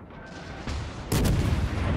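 HMS Nelson-class battleship main guns fire a salvo in World of Warships, two heavy booming blasts in quick succession, the second louder and fuller, sharp close reports followed by a rumbling tail.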